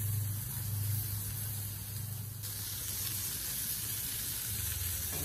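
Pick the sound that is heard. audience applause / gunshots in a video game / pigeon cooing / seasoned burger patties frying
seasoned burger patties frying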